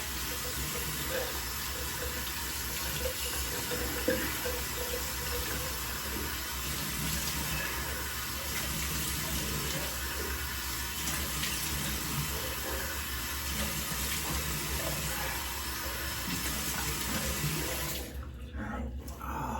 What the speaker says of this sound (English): let's go ahead and heat up some water